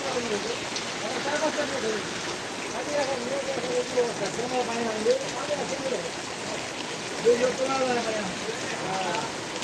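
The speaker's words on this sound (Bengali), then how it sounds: "প্রচুর বৃষ্টি" Heavy rain pours steadily on surfaces as a dense, even hiss, with people talking throughout.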